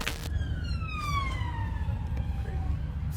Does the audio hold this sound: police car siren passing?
yes